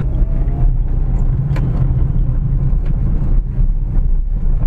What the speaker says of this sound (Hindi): अभी मैं ख़राब सड़क में लेके जाता हूँ, गड्ढे का भी महसूस हो रहे हैं तेज स्पीड पे